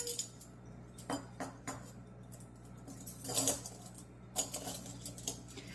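Measuring spoons rummaged through while baking cookies, giving scattered light metallic clinks and rattles in uneven bursts, close by and fairly quiet, with no talk.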